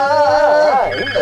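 A phone ringtone plays a warbling, sliding electronic melody, loud and close, for about a second.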